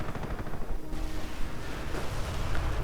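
Dense, continuous gunfire from a Company of Heroes 2v2 match, with rapid overlapping shots and rumbling bursts in a loud, unbroken battle din during an engagement around an MG crew.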